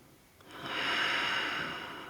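A slow, audible exhale through the nose during a yoga stretch, a soft breathy rush that swells and lingers close to the microphone with no talking.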